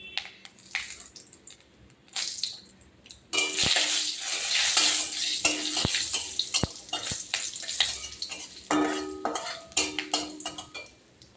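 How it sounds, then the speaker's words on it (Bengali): Bay leaves and dried red chillies are frying in hot oil, a steady loud hiss and sizzle that swells suddenly, broken by occasional utensil clinks against the pan. "এবার আমি দিয়ে দেবো তেজপাতা, শুকনো লঙ্কা, জিরে।"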